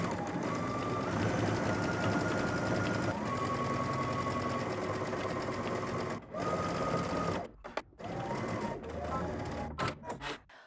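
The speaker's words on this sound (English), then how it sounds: "we're gonna head to the sewing machine, and using a 1/2 inch seam allowance, we're going to stitch all the way around the bag" A sewing machine stitches around a fabric tote bag with a half-inch seam allowance, whirring in a fast steady run close by, pausing and restarting in short bursts toward the end.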